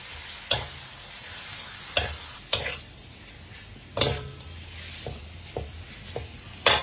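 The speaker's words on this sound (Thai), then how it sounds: "ใส่หมูสันลงไปผัดเลย" Pork loin stir-fried in a hot pan with coriander root: steady sizzle and frying crackle broken by a handful of sharp scrapes and clanks of the spatula against the pan, close and fairly loud, with no talking.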